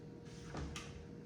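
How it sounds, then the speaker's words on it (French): A kitchen drawer slides shut in a home kitchen, a short sliding rush followed by a soft knock as it closes, heard close and alone. "Je peux refermer le tiroir."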